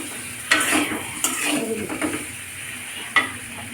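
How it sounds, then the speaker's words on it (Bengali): Sweet pumpkin pieces frying a few at a time in a pan for a vegetarian dish, with a continuous sizzle broken by sharp utensil clinks and stirring scrapes up close. "কম করে করে ভাজছি, অল্প অল্প করে ভাজছি"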